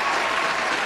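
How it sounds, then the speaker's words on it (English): A burst of steady applause from many hands during a live futures-trading stream, dense and loud, filling the whole short moment without a break. "Applause!"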